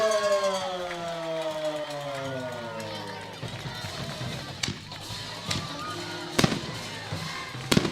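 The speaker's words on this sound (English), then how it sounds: "That is going to bring out our first round of fireworks here tonight at Xolo High School" Fireworks go off at a high school football game after a touchdown, several sharp bangs and pops over crowd noise and a falling siren-like tone, with voices in the stands.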